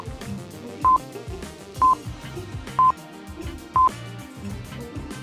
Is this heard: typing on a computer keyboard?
no